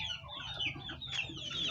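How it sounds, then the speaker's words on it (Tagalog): Backyard chickens cluck excitedly at feeding time, a dense overlapping flurry of short calls from several birds close by, steady and fairly quiet with no talk. "Itong mga manok, excited na makaon."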